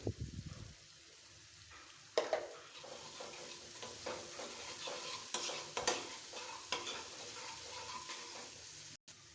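Ground cumin and garam masala powder frying in oil for a Bangladeshi-style broiler chicken dish, with a soft, steady sizzle under repeated spoon scrapes and knocks against the pan.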